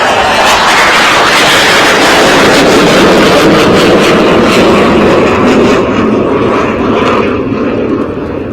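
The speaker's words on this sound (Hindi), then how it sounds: "फाइटर जेट की आवाज।" A Rafale or Mirage fighter jet takes off steeply at about 90 degrees with a loud, sustained roar that dominates throughout, then thins slightly as the aircraft climbs away.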